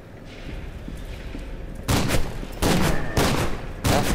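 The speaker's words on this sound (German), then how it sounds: "ist das ein Schuss Schrotflinte?" Shotgun blasts in the first-person shooter F.E.A.R. 2: after a quiet, low ambient stretch, three heavy booming shots ring out in quick succession, followed by the start of a fourth.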